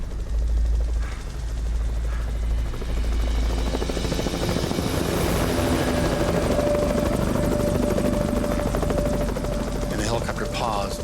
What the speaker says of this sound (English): the helicopter paused and started searching with the searchlight